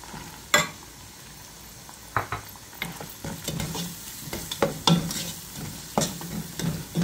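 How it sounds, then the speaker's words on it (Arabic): A spoon scrapes and knocks through tomato paste frying with onions in a pan, giving irregular sharp stirring clacks over a soft, constant sizzle, with no talking. "بندور دبس البندورة اقليها تطلع طيبة"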